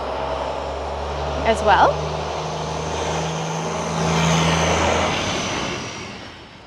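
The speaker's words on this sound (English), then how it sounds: "Sorry for all the traffic noise. This is definitely a busy area." Busy street traffic in the historic village of Merrickville, Ontario rumbles steadily, with vehicles passing and a louder swell near the end, while someone briefly speaks over it.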